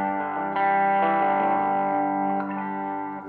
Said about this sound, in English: digging in really does start to crunch on this channel.